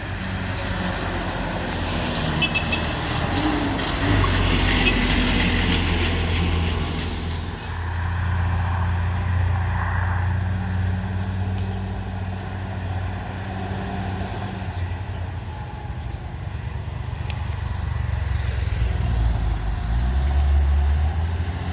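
An Isuzu ILF truck labors up a steep hill road, its engine droning loud and steady with a low rumble that shifts partway through, passing traffic noise around it.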